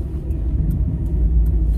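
A car engine rumbles low and steady while struggling to idle during a winter drive on Old Highway 99 down from Mt Ashland ski area, with faint ticking above the drone.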